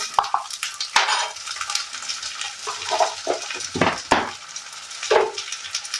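Ginger and green chili paste sautéed in a pan: irregular scraping strokes of a spatula against the pan, with a few sharp clinks and a faint sizzle underneath, close and moderately loud.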